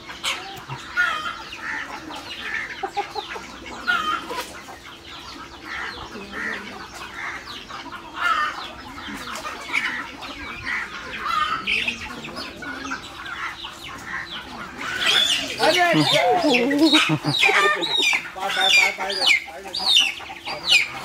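A chicken clucks and squawks in agitation as it is chased and grabbed on a farm, its cries growing louder and more frantic near the end, with people talking over the commotion.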